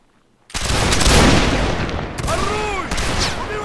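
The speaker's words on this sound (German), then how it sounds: "Jetzt schießen." A musket volley rings out in Mount and Blade Napoleonic Wars, a loud burst of many near-simultaneous shots after a short quiet moment, followed by scattered reports and whistling sounds.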